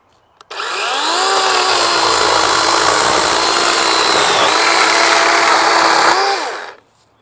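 A DeWalt 20V MAX 12-inch compact cordless chainsaw cuts through dimensional lumber, its loud steady motor whine running for about six seconds, dipping slightly under load before spinning down at the end, with no talking.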